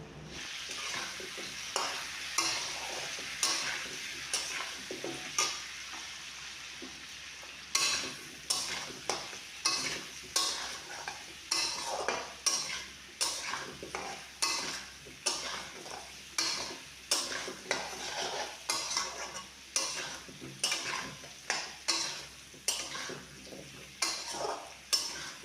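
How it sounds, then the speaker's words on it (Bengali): Potatoes are sautéed with spices for niramish aloo dum in a pan, with a low sizzle under a regular rhythm of spoon strokes scraping and knocking against the metal, close and steady, with no voices. "এবার মশলাগুলো দিয়ে আলুগুলো কষে নেব।"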